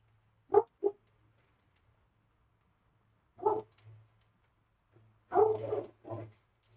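A dog barks in scattered bursts, two quick barks, then a pair of single woofs, then a louder cluster of several barks, close by over a low steady hum in an otherwise quiet room.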